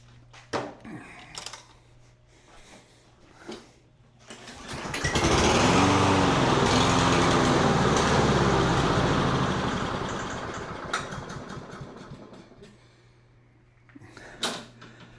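A surging lawn mower engine is pulled into life after a few knocks and handling clatter, roars loudly for several seconds, then fades and sputters down as it dies, followed by scattered clunks nearby.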